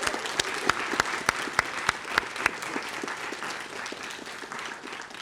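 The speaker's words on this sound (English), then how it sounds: "So let's give a round of applause to Josh." Sustained audience applause at a university video game demo event, dense crowd clapping with a few distinct close claps standing out in the first half before settling into an even wash.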